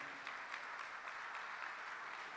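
Spontaneous applause from a church congregation welcoming first-time visitors, a steady, fairly faint patter of clapping heard from a distance.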